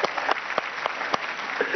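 A TV studio audience applauding after a song on a Marathi talk show, a steady patter of clapping with sharper individual claps standing out, moderately loud and continuous.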